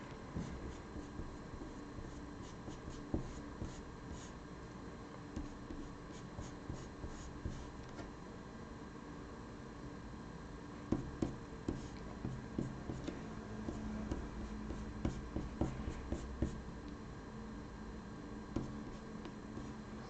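Colored pencil strokes scratch softly and steadily across paper, a faint, close, continuous scribbling texture with small ticks, no voice present.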